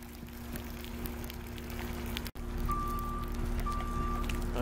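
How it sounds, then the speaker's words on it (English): Reversing beeps from tree removal equipment next door ring out faintly over a steady background hum, with a short high beep repeating in the second half and a brief dropout midway. "next door they're getting ready to do some tree removal"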